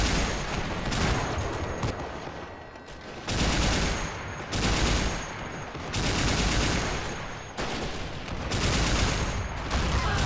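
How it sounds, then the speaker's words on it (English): A WWII-era amphibious beach assault in a video game brings dense, sustained gunfire: rattling machine-gun bursts and rifle fusillades in repeated waves, loud and close, with brief lulls between them. "Oh, bullets landing close. The Germans are returning fire."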